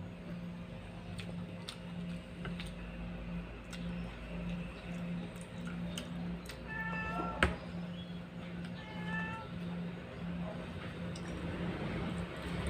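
A few cats meow intermittently, one after another, over a steady low hum and faint ticking in the background.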